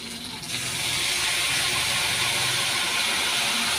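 Cashew nut paste hitting a hot pan, breaking into a loud, steady hiss after a brief quieter start, continuous and close, with no talk.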